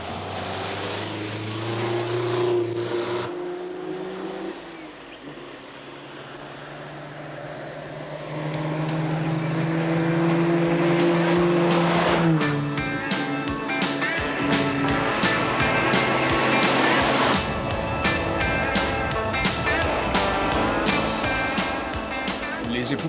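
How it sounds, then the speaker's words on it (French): Classic cars on a road stage of the 1993 Tour Auto rally toward Magny-Cours, engines droning and shifting pitch as they pass, with louder revving and a rush of wind noise in the second half. "la cadence s'accélère, les voitures se dirigent vers Magny-Cours."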